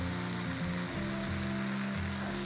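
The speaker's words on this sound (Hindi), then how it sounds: "इन्हें बेसिकली 1-2 बारी फ्लिप करके हम दोनों तरफ से अच्छे से पका लेंगे।" Chicken tikka pieces fry in a pan, making a dense, continuous loud sizzle heard close up and alone, with a steady hum underneath.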